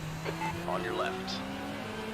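In a Hockenheim endurance race in a sim racing game, a rival car's engine drones steadily, with a rising whine from the passing car as it overtakes. A voice speaks briefly over the engine noise.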